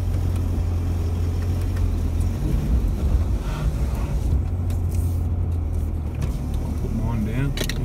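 A 4x4 driving along, its steady engine and road rumble droning continuously from inside the cabin, with wind buffeting and people talking over it.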